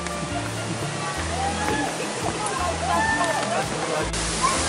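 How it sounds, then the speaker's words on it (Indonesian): Muara Jaya waterfall at the foot of Mount Ciremai in Majalengka gives a constant, even rushing roar of falling water, with people talking over it. "air terjun Muara Jaya atau Muara Jaya Waterfall yang letaknya ada di kaki Gunung Ciremai, Kabupaten Majalengka"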